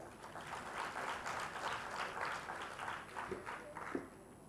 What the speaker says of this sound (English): A more powerful round of applause, please